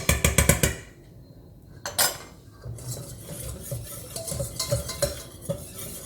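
Vegan lasagne sauce stirred in a pot, opening with a quick run of loud metallic clinks, then softer scraping and swirling strokes with occasional spoon knocks against the side.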